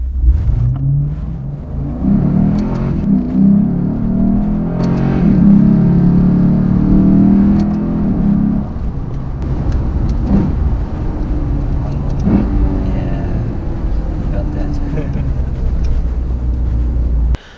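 A Lexus IS-F's engine drones loudly from inside the car while driving, building to a heavier rumbling surge in the middle before settling into a steady cruise hum.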